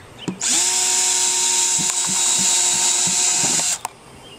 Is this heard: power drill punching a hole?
yes